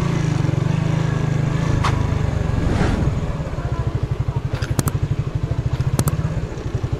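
Motorcycle engines idle and rev nearby, settling into a steady rapid putter with a few sharp clicks and clanks mixed in.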